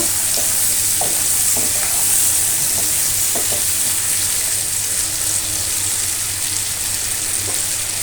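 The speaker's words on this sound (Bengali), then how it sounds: "আর ছোট এক ফালা কুমড়া কুমড়াগুলো ভালোভাবে কষাই নেব।" Pumpkin pieces, with potato and tiger prawns, are sautéed in a hot pan, giving off a steady, loud sizzle with occasional scrapes of stirring and no voices.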